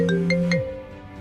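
A phone rings for an incoming call at 3 a.m., a short electronic ring with a few bright tonal pulses that fade out within about half a second.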